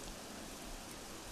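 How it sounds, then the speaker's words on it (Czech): Steady rain falls in the video game Assassin's Creed Unity, a soft, even hiss of rainfall with no other sounds. "Ještě nám do toho bude dramaticky pršet, aby jsme na tom byli ještě hůř"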